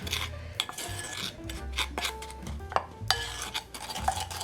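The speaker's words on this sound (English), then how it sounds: "now I'm going to mix up the sugar, the cinnamon, and then I'll add the soft butter" Sugar, cinnamon and soft butter are stirred together for a Danish cinnamon bread filling, producing gritty rasping scrapes in quick, uneven strokes, close and alone.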